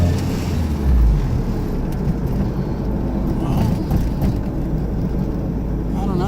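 A 1997 Acura Integra with an idle problem runs with a steady low engine rumble close by, while people talk over it.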